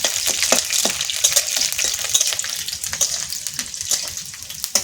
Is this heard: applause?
no